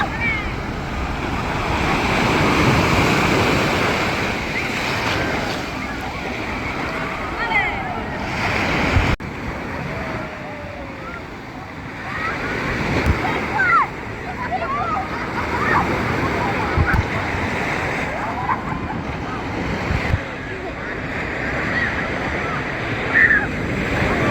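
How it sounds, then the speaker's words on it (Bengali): Big ocean waves surging and crashing at Haeundae Beach in Busan, a steady roar of surf with gusts of wind on the microphone and people talking over it throughout. "কি ঢেউ রে বাবা, অনেক বড় ঢেউ।"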